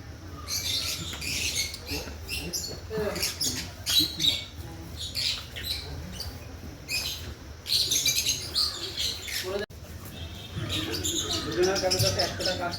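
Caged birds chirping and squawking in a zoo aviary, with a steady mix of calls close by over outdoor background noise and people talking.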